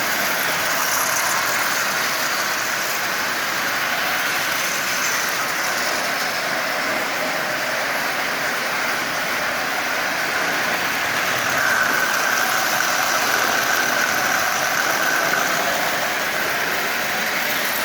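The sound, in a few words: Marx 666 toy locomotive running and smoking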